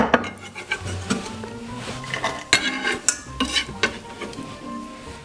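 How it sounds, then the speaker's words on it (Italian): Chopped onion is tipped into a small pot with a wooden spoon or utensil. Sharp clinks and knocks of metal and wood ring out close by, alongside rustling scraping and a faint sizzle. "Dentro la cipolla nel nostro pentolino"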